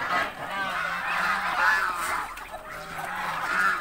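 Muscovy ducks being fed by children, with repeated nasal honking and squawking calls from the fowl, close and fairly loud, running continuously throughout.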